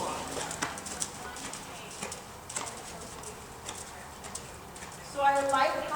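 A horse walks in a dressage arena during a clinic, with soft, irregular hoof clops on the footing under an instructor's voice and faint birdsong.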